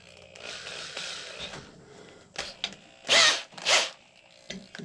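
A drill with a 3/16 bit bores a pilot hole while making a simple powder horn: two short, loud whirring bursts follow quiet handling noises, close to the listener, with no speech.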